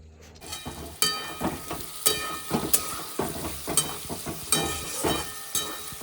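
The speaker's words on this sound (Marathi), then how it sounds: "छान अशी बटाट्याची भाजी तळून घेतलेली आहे" Fried potato curry (bhaji) sizzles in a pan, with uneven clatter of stirring and occasional sharp utensil knocks rising over a steady hiss, heard up close with no talking.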